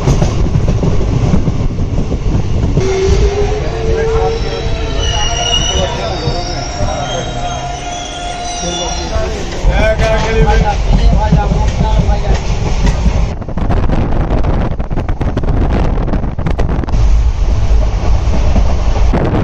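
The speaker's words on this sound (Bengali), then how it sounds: "এখন আমাদের ট্রেন এসে থেমেছে কৃষ্ণনগর স্টেশনে" An Indian passenger train pulling into Krishnanagar station in West Bengal, heard from on board: long, loud metallic wheel squeals over rumbling, clattering rails, easing into quieter braking and rolling, with faint voices in the background.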